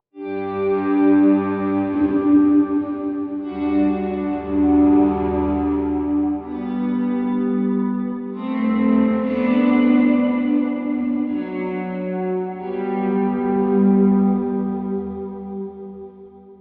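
Guitar through a Tone King Imperial amp plugin with delay set low in the mix and high feedback, sustained chords washing into repeating echoes and reverb, a steady ambient distorted wall of sound lasting throughout, no talking.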